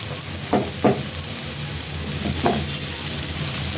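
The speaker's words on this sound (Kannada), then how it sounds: "ನೋಡಿ ಈರುಳ್ಳಿ ಸ್ವಲ್ಪ ಇವಾಗ ಫ್ರೈ ಆಗಿದೆ" Sliced onion fries in a pan with turmeric powder: a steady, close sizzle runs throughout, broken by a few sharp scraping knocks of stirring early on and again near the end.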